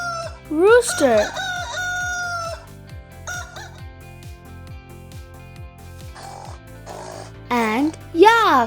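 A rooster crows loudly over a cheerful children's tune with a steady beat, with a long rising call near the start, further bird-like calls later, and a final double crow near the end.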